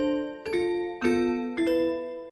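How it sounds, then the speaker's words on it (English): Three bright bell tones from a Nexus synth preset in FL Studio ring out one after another, each striking cleanly and then sustaining with a shimmering decay, close and alone. "I got this bell sound that I really like from Nexus"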